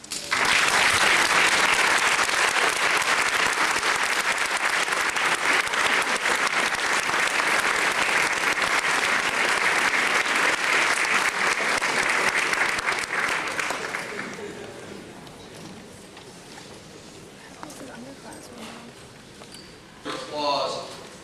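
An audience applauds at an award ceremony honoring exam students: loud, dense clapping holds steady for about fourteen seconds, then fades to scattered claps and quiet room sound, with a brief swell near the end.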